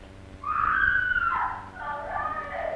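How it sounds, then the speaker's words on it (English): A woman screams in a dramatic film scene, a loud, close, sustained high-pitched cry that wavers and dips before rising again in a second, slightly weaker wail. "Why is she screaming like that?"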